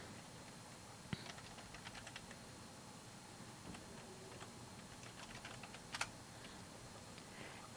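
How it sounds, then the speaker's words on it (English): Quiet typing on a computer keyboard while entering a search topic into a library database, a run of light, irregular key clicks with a few sharper taps, close by and with no talk. "Type in your topic"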